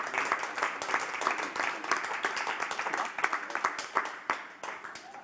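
A small audience at an evening gathering gives a round of applause, uneven individual claps forming a lively patter that carries on for several seconds.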